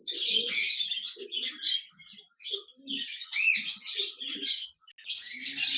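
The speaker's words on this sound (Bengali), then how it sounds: "এখানে দেখতে পাচ্ছেন এক জোড়া ডায়মন্ড ডাব ঘুঘু পাখি রয়েছে।" A large, breeding pair of diamond doves calls at a bird farm, with soft low coos set among dense, loud, bright chirping that continues almost without a break.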